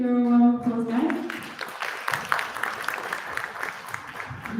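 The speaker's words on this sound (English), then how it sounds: "Give everyone a round of applause" Audience applause at a youth human rights summit, a steady wash of clapping that rises after a brief tonal intro and carries on through the clip, fairly loud and dense.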